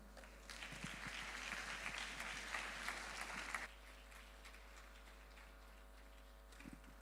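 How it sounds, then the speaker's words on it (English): Faint, distant audience applause at a talk session, a thin patter of many hands that drops abruptly to an even quieter scattering of claps partway through, with a low steady hum underneath. "Let's keep clapping."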